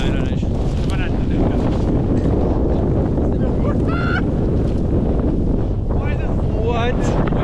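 Strong wind roaring across a snowy frozen river during a snowshoe outing, a loud continuous buffeting rush against the microphone with faint calls and squeaks on top.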